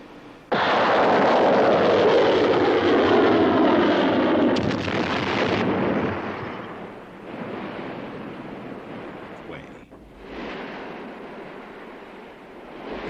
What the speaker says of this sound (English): being armed with 6 MM-38 Exocet anti-ship missiles. Missile 3, feu!